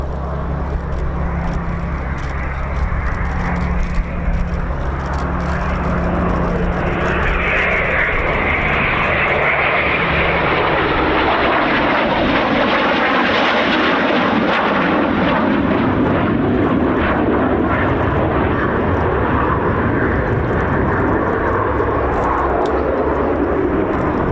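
A Eurofighter Typhoon jet roars through a flying display at the RAF Cosford Air Show, loud and sustained throughout, with the engine rumble swelling and shifting in pitch as it passes.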